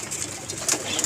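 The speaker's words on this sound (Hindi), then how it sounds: "ये कबूतर तो ज़्यादा ही फैल गए, डर रहे हैं।" Pigeons in a loft give a brief burst of soft cooing mixed with quick wing flaps, close by and moderately loud over about a second.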